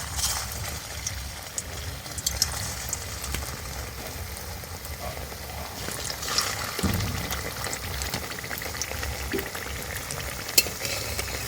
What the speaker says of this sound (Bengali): আগে থেকে আমি কড়াইতে তেলটা দিয়ে দিয়েছিলাম, এবার এগুলো ভেজে নেব